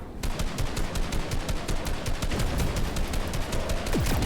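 Rapid automatic gunfire in the Fortnite video game, a steady stream of sharp, evenly spaced shots running loud and close throughout.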